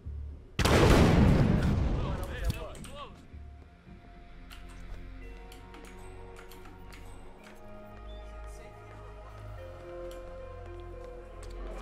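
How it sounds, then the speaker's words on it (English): In the Hitman video game a single loud explosion bursts early and then fades into rumbling debris and ambient game sound, with faint clicks and knocks following. "Oh my god, an explosion!"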